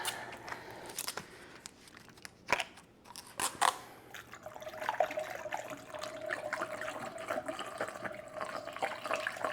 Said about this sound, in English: we will top it off with the rest of our chilled water to 5 gallons